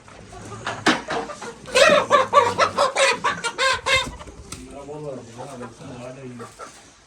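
Chickens cluck busily close by in a rapid run of squawks, with a person's voice talking afterwards.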